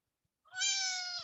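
A cat meow played from a mobile phone app when a cat image is touched, a single sustained, bright harmonic meow lasting under a second, fairly clear and alone after brief silence.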